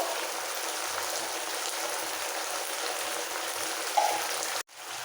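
Spice paste with a splash of water sautéing in a pan for radish ghonto, a steady loud sizzle throughout with a brief stir scrape near the end before it cuts off.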